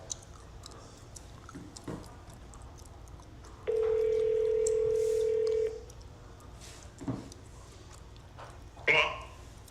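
A telephone tone sounds on a real-estate cold call: a steady two-second electronic tone rises out of faint background noise, followed by a few short clicks and bumps.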